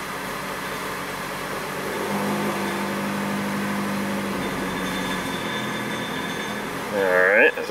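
A Nissan Frontier with a low-power fault runs under light throttle, a steady droning engine hum with faint tonal whine that holds evenly, then swells with a brief rising squeal near the end.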